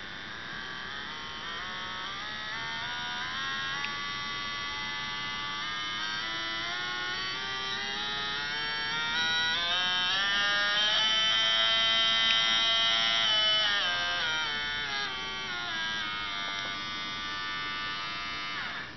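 A peristaltic pump runs with a steady electric motor whine, its pitch sliding upward, peaking mid-way and easing back down as the speed is varied, heard alone without talk.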